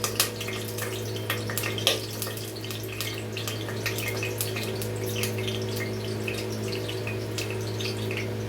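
Water hitting hot cooking oil for potato rice crackles and spits continuously in close, irregular pops over a steady low hum.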